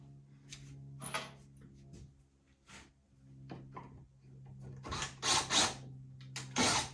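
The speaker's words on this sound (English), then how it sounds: "See, right there, it moved the wood, just trying to put the screw in." A screw is driven into wood in several short bursts of ratcheting, creaking mechanical noise separated by near-silent pauses, the last bursts louder and close.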